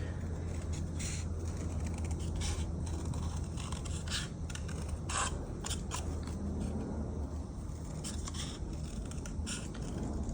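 Scissors snip through watercolor paper while cutting out painted flowers, a run of quick crisp clicks and cuts in irregular rhythm, close up over a steady low background hum.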